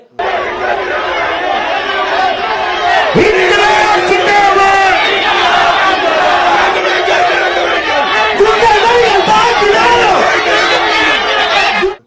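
A large crowd of protesting students shouting and yelling together, loud and continuous, with overlapping voices and raised cries throughout.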